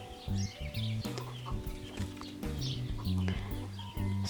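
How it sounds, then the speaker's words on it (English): Six-week-old chicks cluck in short, repeated calls that come close together and stay fairly loud, with a steady low background sound underneath. "So these chicks must be about 6, going on 7 weeks old now."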